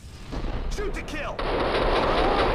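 Rapid gunfire from the video game Max Payne 2, loud and dense with sharp broadband bursts that thicken into a sustained barrage in the second half.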